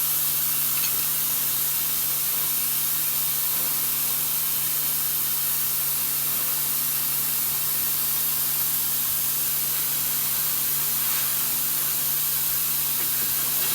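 Compressed air hissing steadily from a loose hose on an MCI MC5 bus, a continuous loud spray close by with a faint low hum underneath.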